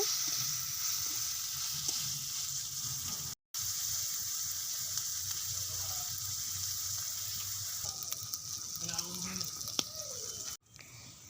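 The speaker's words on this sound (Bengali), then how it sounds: "চিংড়ি মাছ ঝাল পেস্ট ভালো করে ভেজে নিব।" Shrimp coated in salt and turmeric sizzle and fry in an onion, garlic and chili paste, a steady close crackle with occasional stirring scrapes and brief pauses.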